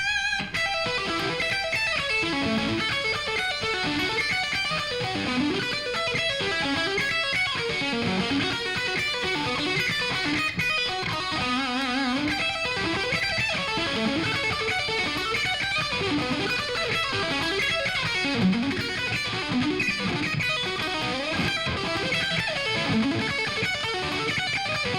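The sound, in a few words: electric guitar solo played quicker with distortion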